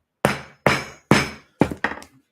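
Five sharp hammer taps seat parts into an LDO Box Turtle filament changer kit during assembly, struck one after another at a steady pace with the last two quicker together, close and fairly loud with no talking.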